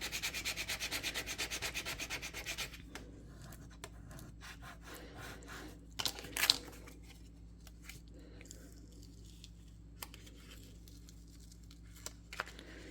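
Adhesive vinyl pressed onto transfer tape for a Silhouette craft project, rubbed firmly in quick rhythmic back-and-forth strokes at first, then a few softer scuffs and handling noises close by.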